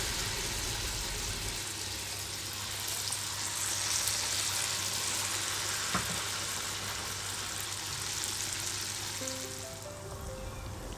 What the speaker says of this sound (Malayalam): അതിനുശേഷം നല്ലോണം ചൂടായ ഓയിലേക്കിട്ട് നന്നായി ഫ്രൈ ചെയ്തെടുക്കുക.